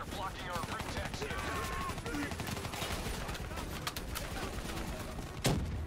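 Full-auto gunfire from a Call of Duty Black Ops 3 campaign battle, a dense continuous clatter of shots and chaotic combat noise throughout, with a loud sharp burst near the end.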